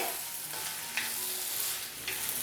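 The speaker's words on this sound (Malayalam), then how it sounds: "വെണ്ടയ്ക്കയും ചേർത്ത് കൊടുത്ത ശേഷം നല്ല രീതിക്ക് തന്നെ നമുക്ക് വീണ്ടും ഒന്ന് വഴറ്റി കൊടുക്കാം" Okra and onions sautéing in a pan, a dense close sizzle broken by a couple of brief stirring scrapes, no one speaking.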